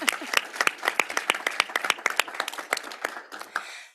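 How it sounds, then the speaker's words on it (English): Scattered applause for an online speaker at an anti-corruption conference event: a small group clapping in a quick irregular patter of distinct, close claps that thins out and fades after a few seconds. "feel free also to give a clap of applause for her"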